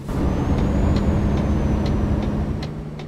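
A truck's air brake in Euro Truck Simulator 2 hisses steadily over a low diesel engine rumble on the road, close and fairly loud, with faint brief squeaks and ticks scattered through.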